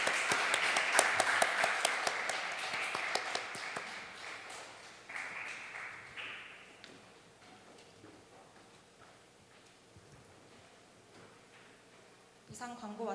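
A church congregation at a young adults' Sunday worship service breaks into loud applause that gradually fades, ending with a brief renewed burst of clapping.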